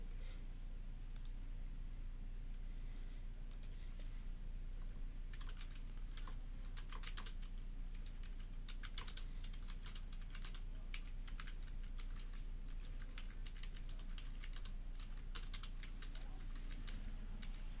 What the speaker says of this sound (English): Sorry if you get to hear nothing but typing for a little bit.